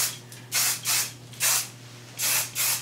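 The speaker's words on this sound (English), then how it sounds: "take again my Kenra volume spray and give it a good spray" Five quick bursts of Kenra volume hairspray hiss from a nearby aerosol can, each lasting about a third of a second, with short pauses between them.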